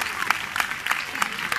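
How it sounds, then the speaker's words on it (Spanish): Small audience at an exotic bird show giving a brief burst of clapping after a singing bird's performance, with a few sharper claps standing out at regular intervals in just over a second. "¡Aplausos a la cantante!"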